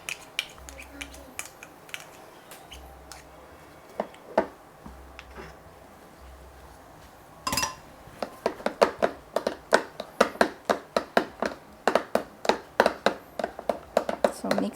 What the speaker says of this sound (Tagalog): So, mix lang until it's well incorporated.